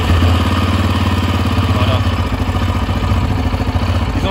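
A 2022 Yamaha 700 Raptor quad's engine is running in a steady, loud, close idle with a fast rhythmic thumping pulse, holding even throughout.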